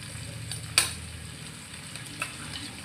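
Eggs fry in a hot pan with onions and chilies for fried rice, a steady close sizzle broken by a sharp utensil clink and a fainter scrape later on.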